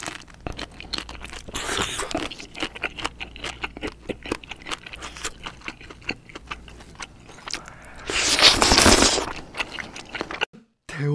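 A king tiger prawn is eaten up close, with wet, crackly crunching bites and chewing in quick irregular bursts, ending in a louder stretch of crackling.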